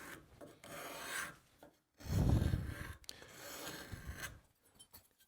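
A curved card scraper drags across wood in a woodworking shop, producing several rasping, scraping strokes that shave the surface, close-up and moderately loud with brief pauses between passes.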